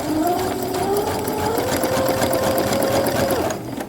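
A sewing machine stitching a shirred, gathered fabric runs in one continuous close whir with a rising and settling motor tone, steady and loud for nearly four seconds before stopping.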